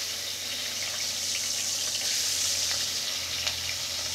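Tangra fish frying one by one in hot, smoking oil in a pan, a steady soft sizzle and crackle with faint spits, no voices.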